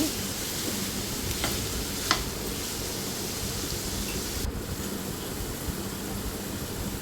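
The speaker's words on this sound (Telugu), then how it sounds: "క్యారెట్ ముక్కలు కట్ చేసి పెట్టుకున్న ముక్కలన్నీ కూడా ఆయిల్లో వేసుకొని పచ్చివాసన పోయే వరకు దానిని మనం కొంచెం ఫ్రై లాగా చేసుకొని పెట్టుకోవాలండి" Carrot pieces frying in hot oil, a steady close sizzle with occasional stirring clinks, alone without talk.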